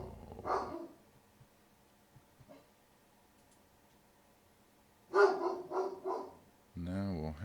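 A dog barks in a few short bursts near the start and again later, separated by quiet stretches, with a voice speaking briefly at the end.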